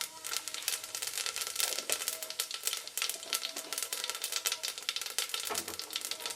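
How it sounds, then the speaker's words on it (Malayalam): Fennel seeds and cinnamon sizzle and fry steadily in a pan of hot oil, a dense continuous crackle with occasional stirring, close and fairly loud throughout. "ഇനി അതിലേക്ക് ഞാൻ പെരുംജീരകം, കറുകപ്പട്ട എല്ലാം കൂടെ ഒന്നിട്ട് കൊടുത്തൊന്ന് മൂപ്പിച്ചെടുക്കുകയാണ്."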